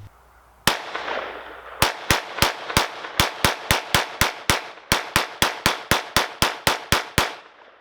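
A Kel-Tec CMR-30 rifle firing Federal 50-grain rounds outdoors, about twenty sharp, loud shots in a fast, slightly irregular string, each followed by a short echo tail, then silence.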